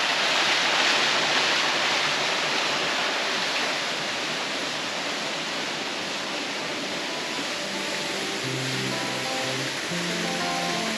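Water flowing steadily at a tranquil spot in the hills of Koh Samui, a dense, constant rushing wash close by and fairly loud, with some faint low tones drifting in near the end.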